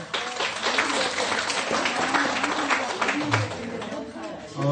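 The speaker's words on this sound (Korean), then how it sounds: "특별히 박수 한번 쳐주세요." A temple audience at a Buddhist dharma talk claps together, a dense, fairly loud patter of applause that carries on throughout with voices mixed in beneath it.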